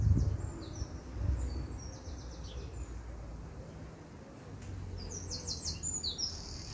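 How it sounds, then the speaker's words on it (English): Scattered melodic blackbird phrases, fluty and chirping, rise over a rumbling low background, moderately close and repeating in short bursts. "Can you hear the sound of the blackbird?"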